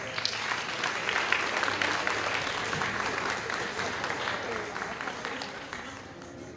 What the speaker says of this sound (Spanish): Fuerte aplauso, por favor, para los premiados